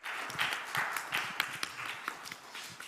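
An audience at a forum applauds a panel of four speakers, scattered claps of moderate density, fairly faint and heard from a distance.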